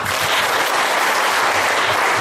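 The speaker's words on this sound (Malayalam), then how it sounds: "കൈയടിച്ച് വെറുതെ." Congregation at a Christian retreat centre in Mallappally clapping hands together, a dense, steady wall of applause from many people that runs loud and unbroken throughout.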